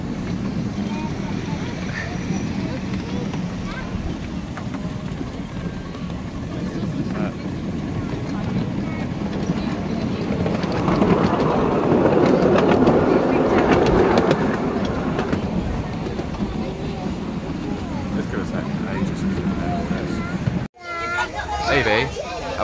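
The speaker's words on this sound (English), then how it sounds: "There's the little train." A small miniature railway train in Chelmsford rumbles and clatters along steadily nearby, growing louder midway, with people chatting and murmuring over it.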